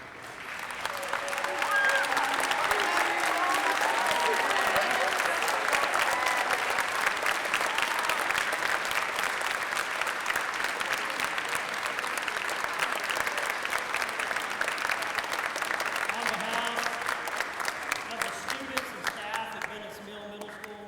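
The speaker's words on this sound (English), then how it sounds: "please stand one more time so we can give you another round of applause" A school crowd at a Veteran's Day program gives veterans a long, sustained round of applause, loud and dense for most of the stretch with a few voices mixed in before it tapers off.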